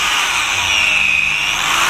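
An angle grinder cuts tread grooves into a car tyre, giving a steady, loud high-pitched whine that holds unbroken for the full two seconds with no talk.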